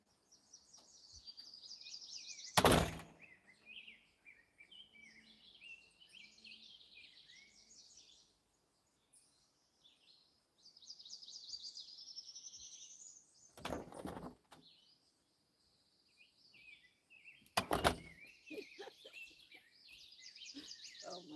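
A favorite songbird sings in bursts of high, trilling chirps, fairly faint and spread across the stretch, broken by a few sharp loud knocks or thumps, with no talk.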